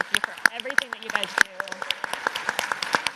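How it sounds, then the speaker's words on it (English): A burst of hand clapping from a small group, sharp irregular claps under a talking voice, fairly close and moderately loud. "I just want to give them a round of applause."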